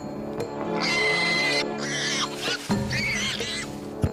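A dragon in an action fantasy film mimics the call of distressed, injured prey to lure a tiger, producing high, wavering cries in several bursts over a dense, continuous background of film sound.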